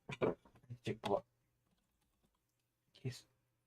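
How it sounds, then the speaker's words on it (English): Computer keyboard typing in a home hobby setup: a quick run of close, crisp key clicks in the first second and a short burst again near the end, separated by near silence. "I press window buttons and start typing"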